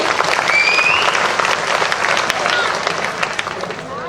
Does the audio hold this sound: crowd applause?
yes